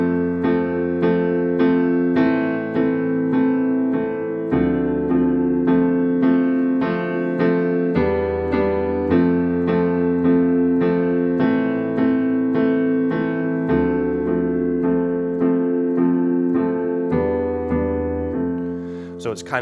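Piano plays the bridge chords of a song, a slow, suspenseful progression of sustained block chords changing every couple of seconds, steady and close, with no talking.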